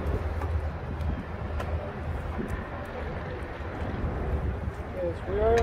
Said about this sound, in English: today is not cold, it's just that it's windy where I'm at